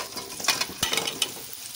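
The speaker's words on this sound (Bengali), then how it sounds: "এবার কেটে রাখা আমগুলোকে দিয়ে দিচ্ছি।" Cut mango pieces sizzle and fry in hot oil with turmeric and salt while a spoon stirs and scrapes the pan, giving a steady crackle with several sharper clinks and scrapes.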